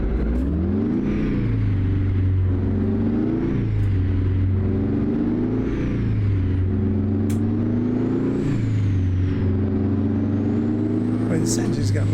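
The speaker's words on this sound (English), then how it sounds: "This engine's got lots of giddy up for this" International 4170 truck engine in American Truck Simulator with a light load, pulling hard through repeated rising revs and gear changes, a loud steady drone with someone talking over it.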